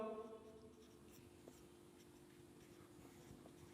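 A teacher writes words on a classroom board, leaving faint, sparse scratchy strokes and light taps against a quiet room hum.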